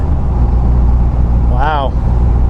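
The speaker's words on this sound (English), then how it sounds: "Cruising at 50. So far, so good. Moving through the gears, great." A Ram 2500 Cummins diesel pickup, rebuilt after a wreck, cruises at about 50 mph on a test drive with a steady, loud low engine drone throughout. A brief voice comes in partway through over the engine noise.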